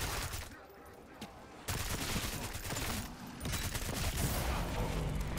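Rapid gunfire from the Cypher weapon in a zombie-mode video game, dense continuous bursts that start softer and grow louder after the first second and a half, with a brief lull before firing resumes.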